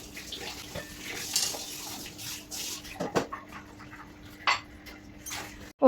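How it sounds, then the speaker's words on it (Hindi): Dishes clink and clatter with occasional sharp knocks over faint running water, close by and fairly quiet. "तो अभी मैंने जो बर्तन थे वो साफ़ कर दिए।"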